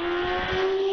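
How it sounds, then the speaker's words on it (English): A Gould GR55 race car with a V6 engine runs at a British hillclimb, its engine holding a steady, sustained high drone throughout at moderate distance with no talk. "in a Gould GR55 with the V6 engine."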